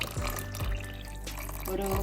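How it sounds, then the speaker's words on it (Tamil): Coconut water is poured into a ground rice flour batter for coconut milk appam, a close liquid splash and trickle with a couple of glugging bursts, while a voice speaks faintly behind. "இளநீ தண்ணி சேர்க்கிறேன்."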